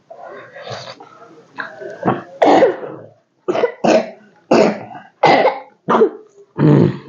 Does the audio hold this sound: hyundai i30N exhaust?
no